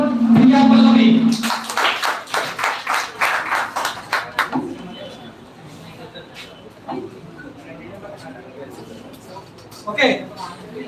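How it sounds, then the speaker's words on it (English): An audience breaks into a burst of clapping for a participant, loud and dense for a few seconds and then fading into scattered claps, with talking in the background. "So please clap for Priya Pallavi."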